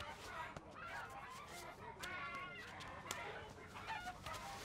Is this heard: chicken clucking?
yes